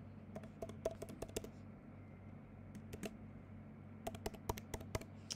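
A username being typed on a computer keyboard, soft irregular key taps in short bursts over a steady low fan hum, with a longer fast run of keystrokes near the end.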